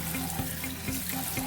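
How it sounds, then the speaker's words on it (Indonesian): Running water rinses a freshly polished engine, a close, steady gushing splash with faint repeating rhythmic pulses underneath. "Setelah kita poles seperti ini, kita bilas dulu ya"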